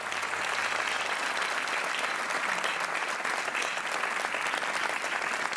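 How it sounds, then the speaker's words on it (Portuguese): Dense, steady applause from a television game-show studio audience, loud and continuous throughout with no pauses. "Mais um aplauso para os Obrigado. dois."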